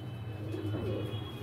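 A single pet pigeon gives one brief, low, throaty coo close by, over a steady low hum.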